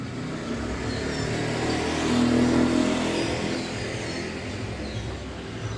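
A Suzuki multicab with a small 660 cc K6 engine runs with a steady mid-pitched hum, rising briefly in a mild rev near the middle before settling back, heard alone at moderate distance.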